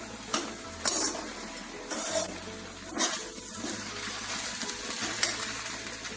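Sago upma is stirred in a pan with a spoon scraping the metal in irregular strokes, soft sizzling underneath, fairly quiet and close with no talk.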